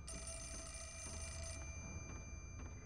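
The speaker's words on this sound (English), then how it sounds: "Well, of course the phone's ringing." A telephone rings in the video game Fatal Frame: Mask of the Lunar Eclipse, a faint, steady electronic trill that stops partway through over a low rumbling ambience.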